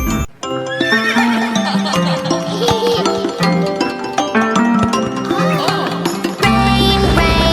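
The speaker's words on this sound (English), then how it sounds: "Neigh, neigh, the horses say." Cartoon horse neighs in a Hindi/Urdu nursery rhyme for kids, whinnying over a loud, steady sung melody with clip-clop hoofbeats and instruments throughout.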